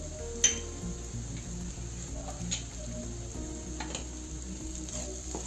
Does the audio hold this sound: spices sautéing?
yes